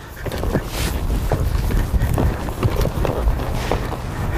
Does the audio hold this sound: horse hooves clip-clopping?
yes